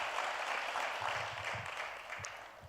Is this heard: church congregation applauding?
yes